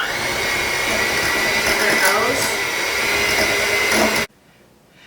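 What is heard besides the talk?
blender blending dog treat batter in a small bowl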